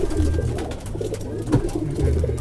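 Pigeons in a breeding loft cooing in low, repeated throaty phrases, several calls overlapping at close range with faint background bustle and no clear talk.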